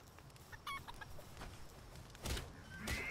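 A few soft chicken clucks in Palworld as the chicken is attacked, faint and scattered over a low background hum, with a brighter squawk near the end.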